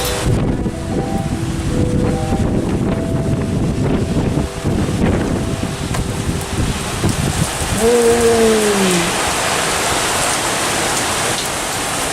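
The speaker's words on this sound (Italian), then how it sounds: "sta aumentando il vento, guardate quanto c'è vento" Loud, gusty wind buffets the microphone with a constant roar at midnight during a storm in Sardinia, mixed with rain-like hiss and a brief tonal whine in the middle.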